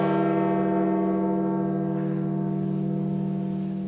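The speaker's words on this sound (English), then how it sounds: "The Vatican's bronze bell that overlooks St. Peter's Square rang out Monday to mark the death of Pope Francis." The Vatican's bronze bell above St. Peter's Square tolls for the death of Pope Francis, one sustained, rich ringing tone that hums and slowly fades, heard alone and clearly.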